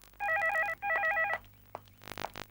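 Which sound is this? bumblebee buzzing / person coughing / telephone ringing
telephone ringing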